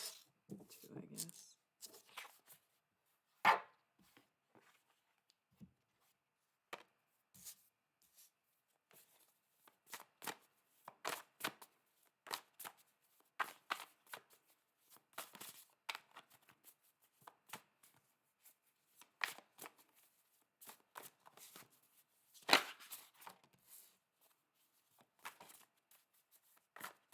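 An oracle card deck being shuffled, quiet sporadic riffles and card slaps coming in irregular bursts with silent gaps between them, close and soft.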